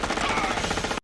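Rapid burst of pistol gunfire from RoboCop (1987), a dense loud volley of shots filling about one second before cutting off abruptly.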